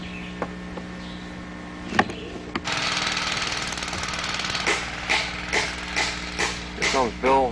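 A lawn mower engine drones steadily while mowing across a field at a camp, following a few sharp hammer knocks, with a voice talking over the running engine.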